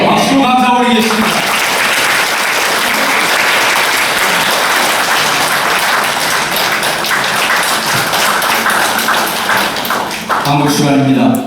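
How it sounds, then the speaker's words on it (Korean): An audience at a church seminar held in a university alumni hall breaks into loud, sustained applause that fills the room, with a voice speaking briefly at the start and again at the end. "박수로 감사 올리겠습니다."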